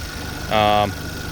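A used 2.0-liter turbo replacement engine from a 2011 Hyundai Sonata, California emissions with an automatic transmission, idles with a steady low drone, briefly overlapped by a short voice.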